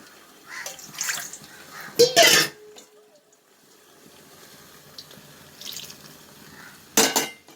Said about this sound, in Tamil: இப்போ உடனே தண்ணி ஊற்றிடலாம்,